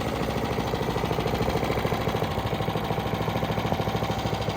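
A vintage Honda HRS-21 lawnmower engine idles alone in a steady, even putter, with a smooth regular pulse that holds at a constant level throughout.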